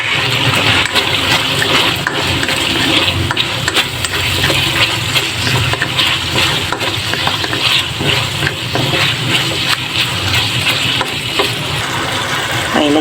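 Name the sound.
sautéing carrots and celery in a pan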